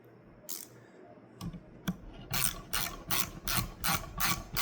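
A nut being tightened on the vent window of a Square Body Chevy C10 pickup: a regular series of close ratcheting clicks and rasps, about six bursts in steady rhythm after a few isolated knocks.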